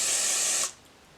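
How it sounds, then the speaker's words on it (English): Hair spray bottle giving a single steady hissing burst onto curly hair, lasting about half a second before cutting off, close and fairly loud with no talking. "So I'm gonna use that spray and just kind of put my hair down like that."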